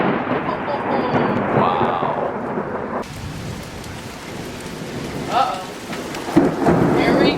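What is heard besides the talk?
thunderstorm with rain arriving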